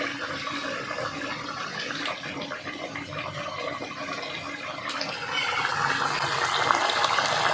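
Water is poured into ground garam masala paste while cooking goat meat curry with ripe ash gourd, a steady splashing, trickling flow that grows slightly louder toward the end, with no talk.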